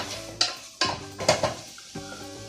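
Chicken curry with masala stirred in a pan on high flame: a few sharp spoon scrapes against the pan over a soft sizzle, heard close with no talking.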